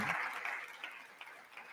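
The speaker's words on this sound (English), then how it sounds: "The Democrats are finally clapping." Clapping in the chamber during the State of the Union address, distant and faint, a soft spread of hands heard across a large hall for under two seconds.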